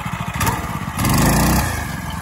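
A go kart's 212 Hemi small engine idles with a rapid putter, then revs up sharply on the throttle for about half a second before dropping back to a chugging idle, close and loud.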